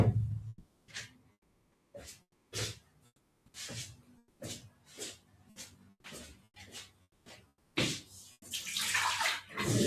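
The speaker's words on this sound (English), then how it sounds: "I'm gonna change my water one last time because it's very murky." Water swishing and splashing in short bursts as murky rinse water for watercolor painting is changed, close and quiet, ending in a louder pour.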